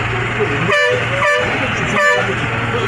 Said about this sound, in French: Les klaxonnettes.